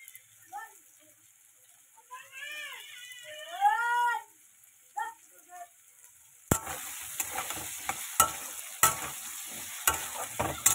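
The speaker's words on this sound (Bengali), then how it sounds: "দিয়ে দিচ্ছি যে টুকরো করে রাখা টমেটো।" Chopped tomatoes hit a hot frying pan with new potatoes and cabbage. After a few cat-like meows over near silence, a sudden loud sizzle erupts and continues with crackling bursts and clattering stirring.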